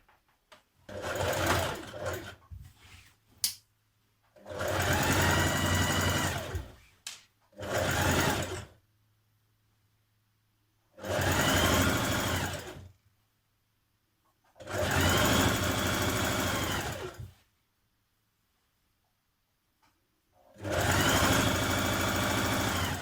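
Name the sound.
sewing machine stitching trouser side seams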